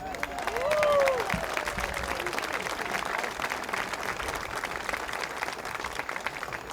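Crowd applause at an outdoor veterans appreciation parade, steady dense clapping with a few cheers and whistles near the start, continuing evenly at moderate loudness throughout.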